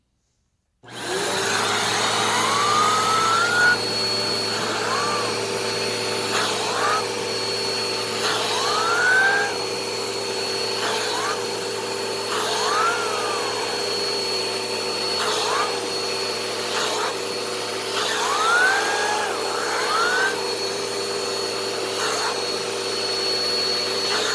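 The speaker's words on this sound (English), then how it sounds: "Press this right under the hose just like this, and then vacuum with it." A Bissell PowerForce Helix Turbo Rewind Pet upright vacuum cleaner with turbo hose tool starts and runs with a steady high-pitched whine, its motor drone continuous, while a person speaks intermittently over it.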